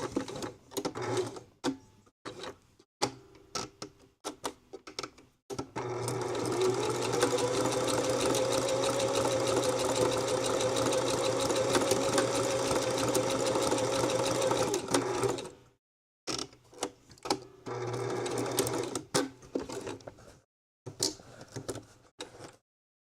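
A sewing machine stitching a fabric-wrapped rope bowl runs in a steady, continuous whir for about ten seconds, with short start-stop bursts of stitching before and after.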